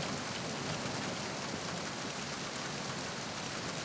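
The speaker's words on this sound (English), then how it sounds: "they can't hear me out here because the storm is too loud" Steady, dense rainstorm from the video game Metal Gear Solid 2, a constant broadband hiss of heavy rain on surfaces that fills the whole stretch without letup.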